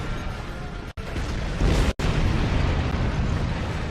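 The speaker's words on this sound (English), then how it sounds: "Detonating charges." Detonating charges in the Star Trek Online game explode in a dense, sustained rumbling roar, loud and continuous with two brief cuts, no speech over it.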